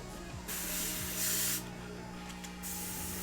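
An airbrush fed by a small compressor running at about 18 to 20 PSI sprays red paint in several bursts of sharp hiss, with short gaps between passes and a low compressor hum underneath.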